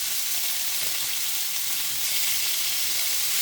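Masala egg dosa sizzles and fries steadily on a pan over a low flame, a constant close hiss with faint stirring or scraping taps, and no talk.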